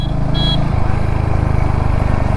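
Tanker trucks travel along a single-lane road, heard as a loud, close, continuous engine drone and rumble that holds steady throughout.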